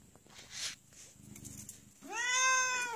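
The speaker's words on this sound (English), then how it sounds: "If you're happy and you know it, say meow." A pet cat gives a clear, drawn-out meow near the end, sounding close by after quieter background sounds and faint human voice.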